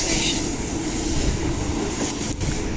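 A passenger train on an eastern suburban line heading toward Claremont runs past loudly and steadily, a continuous broadband rumble of wheels on rails with a faint squeal and a rhythmic clack near the end.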